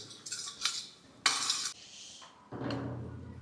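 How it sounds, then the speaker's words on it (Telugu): A spoon scrapes and clinks against a metal pot as coarse salt is stirred into tamarind, a few separate strokes with bright rattling and a soft gritty swish, close and alone. "దొడ్డు సాల్ట్ వేసి కలుపుకుందాం"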